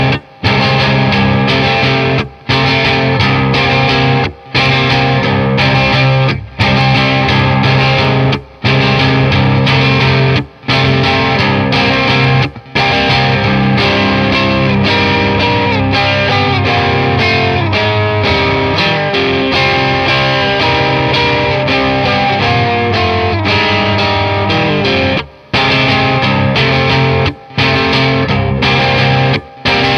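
An overdriven electric guitar, a 90s reissue Danelectro 59 Double Cutaway run through a Past Effects Canberra drive pedal into a Fender Deluxe Reverb amp, plays loud, sustained distorted chords and riffs continuously, with brief near-silent breaks between phrases.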